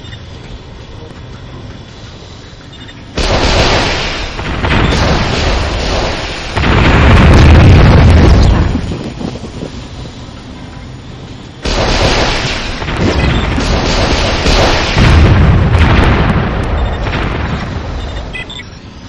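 In the strategy game Warzone 2100, a laser satellite fires and sets off heavy explosions: two long bursts of roaring, rumbling blasts with booming peaks, loud and close, separated by a lower steady background din.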